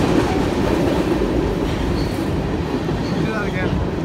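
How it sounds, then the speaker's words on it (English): A train rolls past close by, a loud continuous rumble with rattling wheels and faint metallic squeals near the end. "Oh, there's the end of the train"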